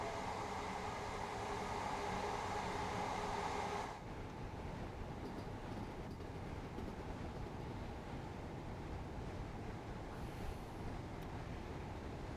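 A train passing in the railway simulator Train Sim World 4 on a London commuter line: a loud steady rumble with rushing wind noise that drops slightly after a few seconds and then carries on evenly, with no talking.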